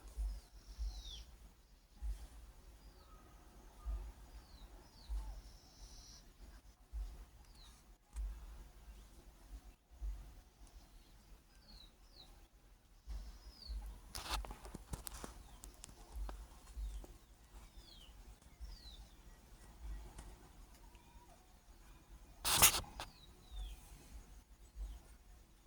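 Small birds and chicks chirp faintly outdoors, thin high calls repeating sporadically over a quiet background with a few louder thumps and scrapes and no talking.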